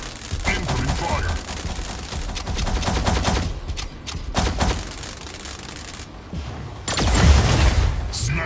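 Rapid weapon fire and booming blasts from the mobile video game Mech Arena rattle almost continuously, with heavy impacts and a loud burst near the end, mixed with game sound effects.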